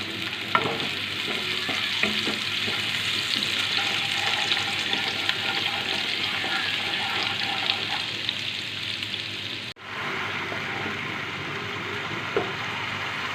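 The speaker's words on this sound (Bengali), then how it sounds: "এবার দিয়ে দেব একটুখানি পেঁয়াজ কুচোনো। পেঁয়াজটাকে লাল করে ভেজে নেব।" Chopped onion fries until browned, producing a steady, dense sizzle close by with light stirring clicks and a momentary dropout before the crackling resumes.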